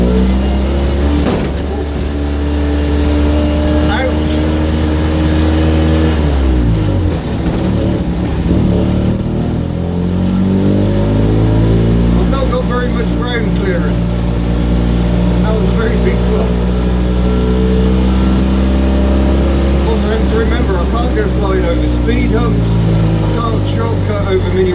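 A race-spec Citroen 2CV drives on a public road, its small engine buzzing loud and steady with rising and falling revs through the gears, close and continuous throughout.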